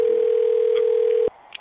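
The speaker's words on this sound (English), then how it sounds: "My favorite line now is when I hear a phone ringing." A single steady telephone tone holds for just over a second, loud and close, then cuts off abruptly into quiet room noise.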